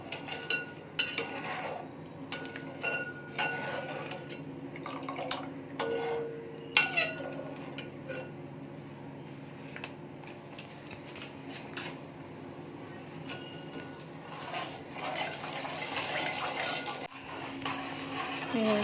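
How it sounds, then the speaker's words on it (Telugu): A spoon scrapes and clinks steadily against a metal pan, a continuous stirring sound over a low bubbling simmer of sugar syrup for gulab jamun, close by. "పాకం బాగా మరుగుతుంది దీన్ని తిప్పుతూ ఉన్నామండి"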